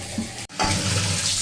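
Butter hits a hot kadhai and sizzles, a loud close crackling hiss that starts after a brief pause and continues steadily.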